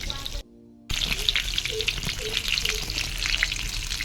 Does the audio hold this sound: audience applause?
no